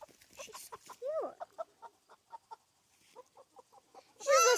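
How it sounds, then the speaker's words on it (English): Chicken on a farm clucking in quick repeated bursts, with a rising squawk early on and a louder call at the end, close and clear in a quiet setting. "She's not the smallest chicken,"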